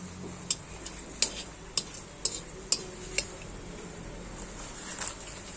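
Dried red chillies fry in oil in a wok, giving a faint, steady sizzle broken by scattered sharp clicks and taps from stirring.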